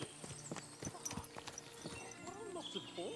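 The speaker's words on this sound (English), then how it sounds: "What a lot of horses." Horses in the video game Kingdom Come Deliverance 2 clop their hooves in an irregular rhythm, and a whinny rises near the end, with talk layered over the busy scene.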